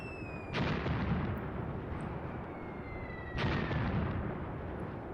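Two heavy artillery blasts from the WWII tactics video game Graviteam Tactics: Mius Front, each a loud booming burst that rumbles and slowly fades, the second following about three seconds after the first.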